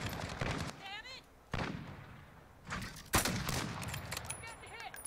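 Gunfire in a shooter video game comes in sharp, loud bursts with brief gaps between volleys, mixed with whizzing effects and occasional voices over the action.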